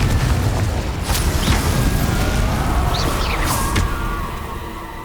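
Confringo spell blast in the video game Hogwarts Legacy, a booming burst with crackling debris and whooshing sparks, fairly loud then trailing off, no talk.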